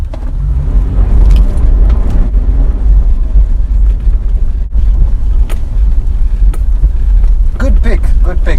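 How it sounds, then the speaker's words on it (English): A Toyota FJ Cruiser 4x4 floored from a standstill on a dusty off-road track gives a loud, sustained engine roar, heavily buffeted by wind noise, running continuously with no letup. "But we'll just floor it. Let's just see how it takes off."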